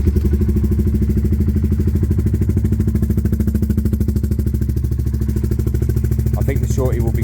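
A Honda CBR 125 motorcycle engine warms up at idle, a steady close putter with rapid even pulses, and a brief voice speaks near the end.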